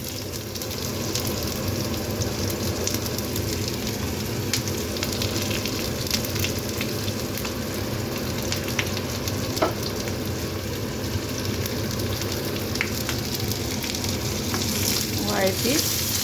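Garlic and onion sauté in a pan after mustard seeds are fried, giving a continuous close crackling sizzle with occasional stirring scrapes and clicks throughout.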